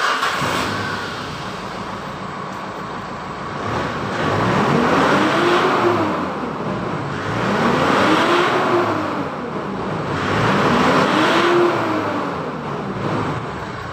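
A Mitsubishi Strada Triton diesel pickup with a black-smoke and high fuel consumption fault idles with a steady rumble, then revs three times in rising and falling swells, loud and close with no talking.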